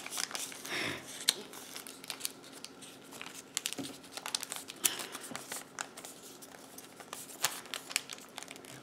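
Origami paper being folded in half for a bunny, with continuous crisp crinkling and rustling, close and moderately loud, broken by sharper creasing snaps.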